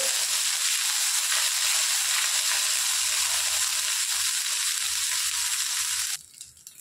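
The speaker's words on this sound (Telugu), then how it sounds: "ఇందులోనికి కొద్దిగా అల్లం వెల్లుల్లి పేస్ట్ వేసుకోవాలి. పచ్చి వాసన పోయేంత వరకు బాగా వేయించుకోవాలి." Ginger garlic paste frying in a pan gives a loud, steady, hissing sizzle that runs unbroken for about six seconds and then drops away abruptly near the end.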